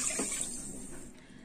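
Water poured from a kitchen bowl onto sugar to start a syrup for mawa gujiya, a soft steady splashing pour that gradually tapers off, close and fairly quiet, with no talking.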